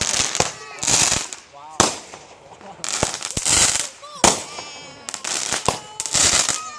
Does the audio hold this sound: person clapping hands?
no